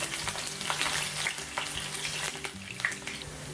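Chopped onion hits hot oil in a pan and sizzles steadily up close, with occasional crackles and the scrape of stirring.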